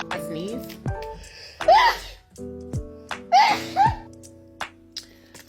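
A woman sneezes repeatedly in a sneezing fit with sharp bursts, separated by breathy catches and laugh-like sounds and some speech, close and fairly loud.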